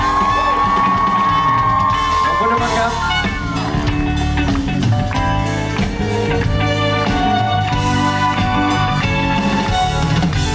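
A loud concert crowd screams and cheers continuously over amplified music at the O2 Stage Oasis RCA in Bangkok, the roar sustained throughout.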